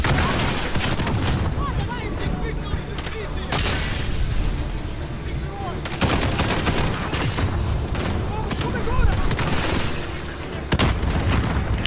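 Grenade explosions and bursts of gunfire from Call of Duty Modern Warfare on Xbox One, dense and continuous, with repeated booms and rattling shots over about twelve seconds, mixed with in-game chatter.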